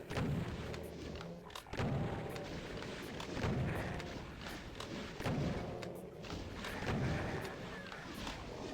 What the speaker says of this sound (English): That chain gunner is eating me up.